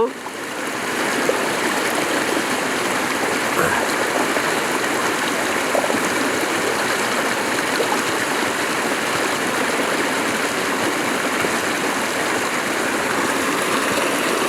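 A mountain stream in Muju Gucheondong valley on an autumn day rushes steadily over rocks, a close, continuous broadband roar of flowing water that holds an even level throughout.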